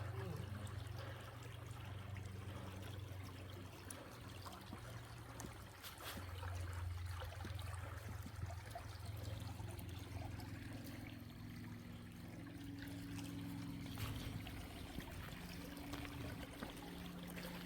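Creek water trickling and flowing over rocks at a hiking trail crossing, a steady quiet babble with a low continuous rush, no talking.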